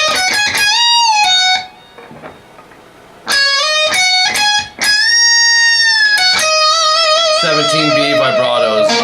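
Electric lead guitar playing a riff, with slides, hammer-ons, pull-offs, bends and vibrato, clean and close, in bursts with a brief quiet gap in the middle.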